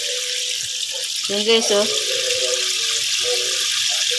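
Taro leaves being rinsed under a running kitchen tap, a steady broadband hiss of flowing water with brief splashy changes as the leaves are handled, while a person talks over it.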